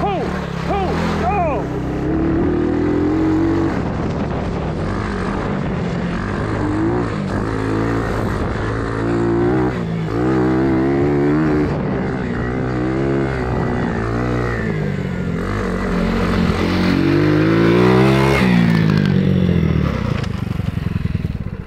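A Honda ATC 70 three-wheeler with a swapped-in 140cc engine races a lap on a track, revving loudly and shifting up and down in rising and falling sweeps, with excited voices talking and shouting over it.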